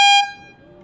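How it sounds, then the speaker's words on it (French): A loud motorcycle horn blares once in northern India, a short piercing tone close by that cuts off and leaves faint background noise. "chaque courbe, c'est à grand coup de klaxon pour prévenir"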